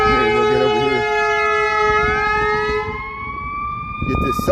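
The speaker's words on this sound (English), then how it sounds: "Get this siren here. There's an ambulance crossing the street there." An ambulance siren wails on a Chicago street, a loud close sweeping tone that slides downward as it passes, with street noise and a brief voice near the end.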